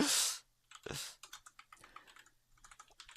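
Typing on a computer keyboard during a cloud storage coding session: a run of quick, uneven key clicks after two louder thumps, close and clear with no talk.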